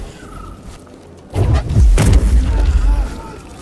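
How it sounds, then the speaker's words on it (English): An explosion in the video game Star Wars Jedi: Fallen Order, a loud, deep booming blast that bursts in suddenly and rumbles on for a couple of seconds after a quieter lead-in. "That's just gonna explode."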